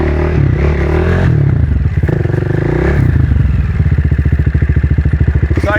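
A motorcycle engine held in a wheelie revs up and eases off in loud, close surges, ending in a rapid pulsing throb as the throttle changes.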